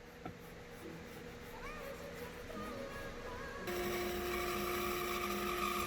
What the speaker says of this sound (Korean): 테두리는 약간 각도를 주고 자르고 있습니다